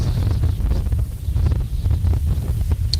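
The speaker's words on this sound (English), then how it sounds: "The sound of that wind whipping through certainly is a fearsome sound." Strong wind gusts during a Colorado wildfire at a Louisville trailhead, a loud buffeting roar battering the microphone with uneven surges across the whole stretch, no voices.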